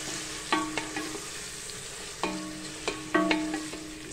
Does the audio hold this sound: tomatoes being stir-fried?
yes